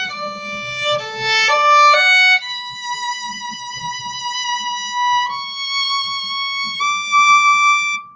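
A solo violin plays the opening measures of Massenet's Meditation from Thaïs, a few quick notes leading into long sustained tones, clear and close with no voice present.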